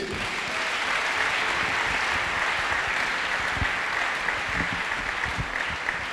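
A church congregation applauding during a French-language sermon, dense sustained clapping throughout with a few faint voices mixed in.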